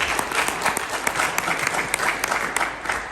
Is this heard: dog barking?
no